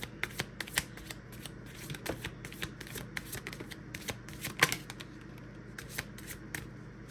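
Someone shuffles a tarot card deck close by, producing a quick series of crisp riffling clicks and snaps at an irregular rhythm, fairly quiet and with no talking.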